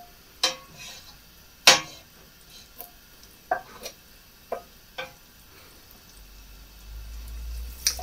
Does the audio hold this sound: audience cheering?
no